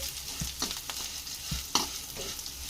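Drumstick leaves frying in oil in a pan as they are stirred, a soft constant sizzle broken by several scraping stirs and one sharp clink, fairly quiet and close with no talking.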